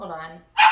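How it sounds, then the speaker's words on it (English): A pet dog gives a single sharp bark close to the microphone indoors, right after someone speaks briefly. "Sorry about my dog."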